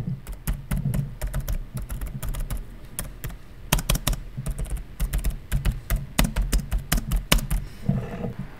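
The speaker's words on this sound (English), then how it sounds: "the louder taps that were happening there was the spacebar, with the other ones just being the various letter keys" Keys and spacebar tapped on an MSI GL65 laptop keyboard, a steady stream of close, crisp clicks with heavier, louder thumps from the spacebar mixed among the lighter letter keys, with no voices.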